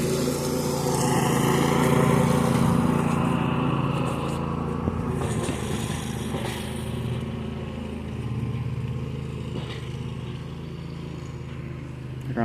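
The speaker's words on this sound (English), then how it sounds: "I'm trying to film the lawnmowers. Well, the lawn mowing action, I should say." A Husqvarna zero-turn lawn mower engine drones steadily throughout while mowing, loud and fairly close, its pitch wavering slightly as it moves around.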